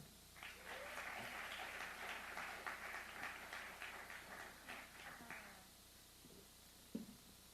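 Audience applause welcoming a panel moderator on stage at a tech conference panel on humans and robots in manufacturing, a steady crowd clapping for about five seconds that thins out, leaving scattered claps and room noise.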